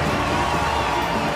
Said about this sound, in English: Boy, listen to the crowd. They are fired up.